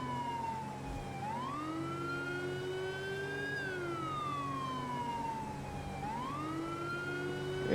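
A loud, close police siren in the video game LSPDFR, set in New York, swoops slowly up and down in a repeating wail over a low rumbling engine.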